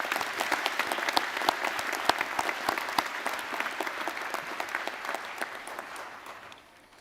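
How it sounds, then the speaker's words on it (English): Audience applauding at a Massey University graduation ceremony in Manawatū, a steady dense round of many hands clapping that carries loudly for several seconds before starting to thin and fade at the end. "Can we give her another round of applause,"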